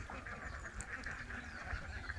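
A flock of ducks raised in the open, on a river char, quack in a steady, overlapping chatter that continues throughout, with no voices over it.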